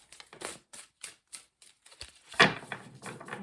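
Tarot cards being shuffled by hand, a run of quick papery riffles and slaps in uneven bursts, close and fairly soft, with one louder flurry near the middle and no talking.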